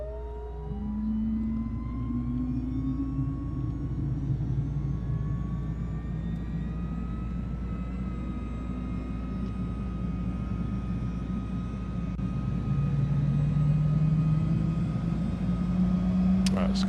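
A simulated Cirrus SF50 Vision single jet engine spools up from start, a steadily rising whine with tones climbing in pitch over several seconds, holding a sustained hum with a slight surge near the end.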